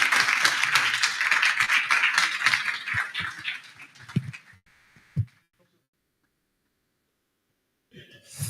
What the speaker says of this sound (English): let's join me in giving a round of applause to Commissioner coming in